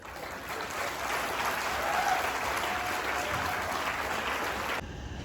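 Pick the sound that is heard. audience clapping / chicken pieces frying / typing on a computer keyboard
audience clapping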